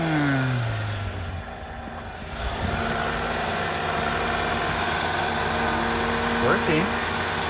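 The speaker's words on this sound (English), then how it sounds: "Okay, testing the engine." A 2012 Honda Odyssey engine, just started after an air filter and mass air flow sensor change, idles with a steady low hum and a brief rev near the start, heard close by.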